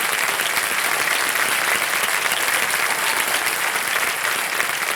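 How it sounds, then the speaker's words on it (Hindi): Loud, dense studio-audience applause for a junior quiz player on the hot seat, continuous and even throughout with no pauses. "जोरदार तालियां बज जाए उनके लिए"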